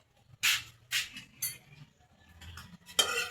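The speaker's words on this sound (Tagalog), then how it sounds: "Halu-haluin lang natin, ayan, malapot na siya," A utensil stirs sweet and sour pork sauce simmering in a pan, giving a few scraping and clinking strokes against the pan at an irregular pace, close and fairly quiet.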